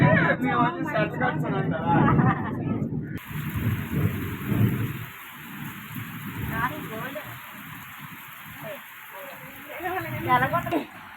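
Steady rain hissing through a rainy rural day near farm fields, with people talking over it at first before the rain continues mostly alone.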